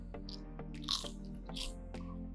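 Crisp bites into crunchy roasted vegetable chips, with a few sharp crunches followed by brief chewing, close and quiet with no talking.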